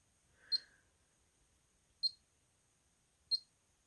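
A radiation detector picking up low background radiation in Northern Ireland gives three short, sharp beeps at irregular intervals in an otherwise quiet room.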